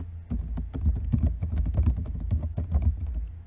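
Steady, fast typing on a computer keyboard, with close, crisp key clicks in a continuous irregular rhythm and no talking.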